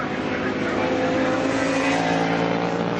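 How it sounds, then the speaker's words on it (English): Superbikes race under open throttle at Brands Hatch Indy in British Superbike 2018, their engines making a loud, continuous, high-pitched drone that holds steady throughout, with the faint murmur of a voice beneath. "This is all under power when the throttle's open and the bike's wanting to push forward."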